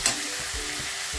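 Tomato being stirred and fried in a pan during village-style cooking, a steady close sizzle with soft scraping stir strokes repeating through the short stretch.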